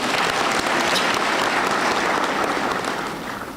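A graduation ceremony audience claps steadily at a university, dense applause that holds for a few seconds and then begins to fade.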